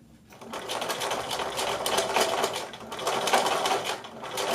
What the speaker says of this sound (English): And then keep stitching up towards the slider